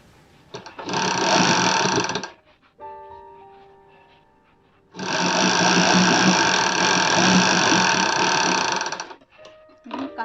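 A sewing machine stitches the shoulder seams of a triangle-neck nightie in two long, steady runs of rapid whirring separated by a brief pause with faint clicks, close and alone.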